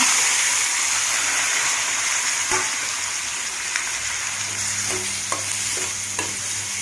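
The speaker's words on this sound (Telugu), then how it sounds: "ఇంకా ఇంకోసారిగా బాగా వేగాలండి" Onions fry in a pan for a chutney served with pesarattu, giving a continuous close sizzle with occasional faint taps of stirring.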